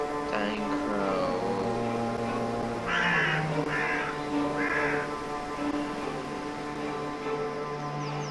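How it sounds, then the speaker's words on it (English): A dying crow in the game The Last Door gives several harsh, rasping caws in a short series over a sustained low tonal drone, moderately loud. "Dying crow."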